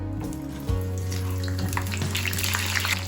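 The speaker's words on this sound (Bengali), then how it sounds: "এবার পটলগুলো ভেজে নিচ্ছি" Pieces of pointed gourd (potol) fry in hot oil, a steady hissing sizzle over a low constant hum, with small spits and crackles that get livelier after a brief thump.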